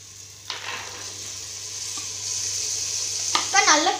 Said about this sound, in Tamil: இப்போ நல்லா ஃப்ரை பண்ணிக்கோங்க.